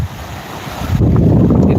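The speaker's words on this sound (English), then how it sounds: "it's so windy." Strong wind buffets the microphone at a seashore while surf rolls in beneath, the roar growing louder and denser after the first second and staying steady, with no voices.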